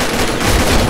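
A gun firing in a shooter video game, a loud, dense rapid burst of shots close up, filling the whole short moment.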